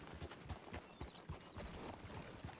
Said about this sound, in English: there's horses up ahead. Are those wild horses?